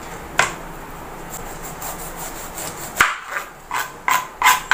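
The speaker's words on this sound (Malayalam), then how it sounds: "ഇനി നമുക്ക് പൈനാപ്പിൾ കട്ട് ചെയ്തെടുക്കാം." A knife slices the tough sides off a whole pineapple, giving several short, crisp cutting and scraping strokes close by, ending in a quicker run of rasping cuts with no voices.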